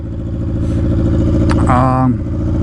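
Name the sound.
Yamaha R6 motorcycle engine running without exhaust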